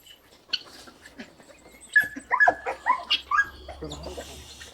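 High, thin whimpers and yips from a female Kangal-type dog, several short cries in a row, close by with soft background noise.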